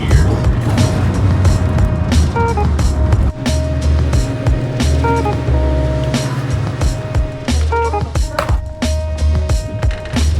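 A Honda car with a D15z7 three-stage VTEC engine driving in gear, a steady low engine drone with road rumble and rattles from inside the cabin, voices speaking briefly over it.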